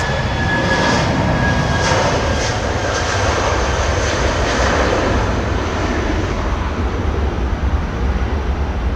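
Airliner jet engines at takeoff thrust make a loud, sustained, broad roar that stays steady and close throughout, with a faint high whine early on.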